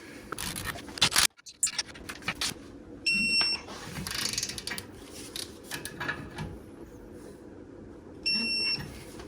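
Mechanical ratcheting and clicking while torquing axle caliper bolts on a 2003 Chevy Silverado, with scraping tool noises and a couple of short high-pitched beeps, close by and without talk.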